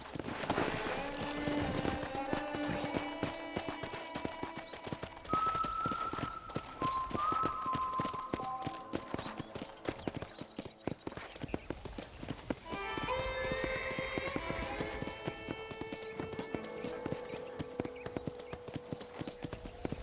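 Horse hooves clip-clop at a steady riding gait on a ranch in the video game Red Dead Redemption, rhythmic and fairly close, with background music playing over the hoofbeats.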